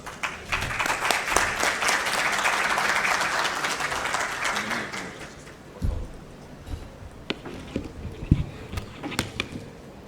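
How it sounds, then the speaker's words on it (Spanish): Loud applause from a conference audience welcoming a mining engineering lecturer at a Peruvian university, dense clapping that builds, holds for several seconds, then thins into a few scattered claps and knocks as the room settles. "a quien recibimos con un fuerte aplauso"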